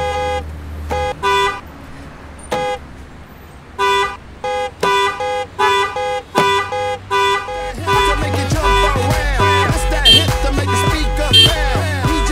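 Car horns honk in repeated short blasts, then build into a dense, overlapping chorus of horns amid loud traffic in an Indian traffic jam.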